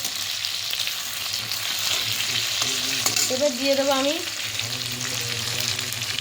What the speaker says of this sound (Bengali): আলু কিন্তু আমার ভাজা ভাজা হয়ে এসছে